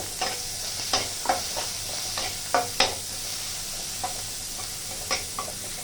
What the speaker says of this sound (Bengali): ওই তেলে দিয়ে দিলাম একটা শুকনো লঙ্কা আর একটা কুচনো পেঁয়াজ।